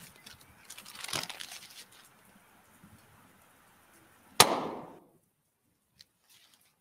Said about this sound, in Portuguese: Enche o saquinho e o estoura.